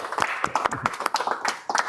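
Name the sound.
audience applause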